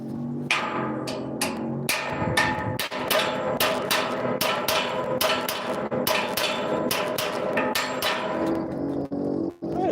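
Sharp metallic hammer strikes on a metal punch ring out in quick irregular succession, loud and close, with brief pauses between bursts.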